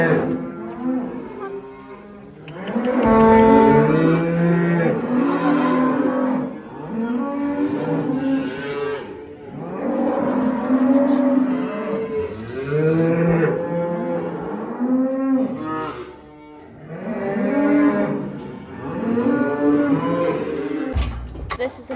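A batch of Limousin and Charolais heifers, with sets of twins among them, moo repeatedly at close range in long, overlapping bellows throughout, with only brief pauses.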